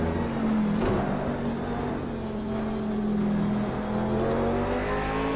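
Lamborghini race car in a racing video game at the Dubai circuit, its engine droning loud and steady throughout with rising and falling revs as it laps, no talking over it.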